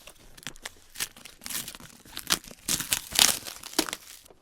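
Close, crackly rustling and tearing of cardboard and plastic wrapping, in irregular bursts that grow busier toward the end.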